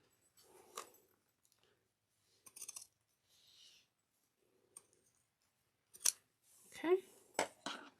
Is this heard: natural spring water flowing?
no